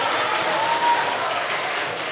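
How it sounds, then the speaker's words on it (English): Steady, continuous audience applause at a school debate competition, a dense roomful of clapping with no pauses throughout. "A round of applause."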